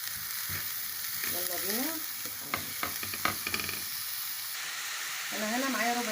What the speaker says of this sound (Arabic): حطيت لهم معلقه سمنه بلدي وشويه زيت، هشوح بقى فيهم كده